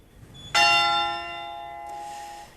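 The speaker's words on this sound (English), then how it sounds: "church bells have been ringing out across the capital, Manila" A church bell in Manila strikes once with a sharp attack, then rings out in a long shimmering decay of layered tones, loud and alone.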